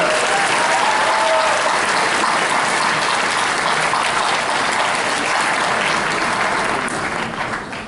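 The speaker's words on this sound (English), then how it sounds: "I think we should give them a great round of applause as well" A graduation audience in a high school ceremony room gives a long, dense round of applause, loud and steady for several seconds before thinning slightly at the end, with no voices over it.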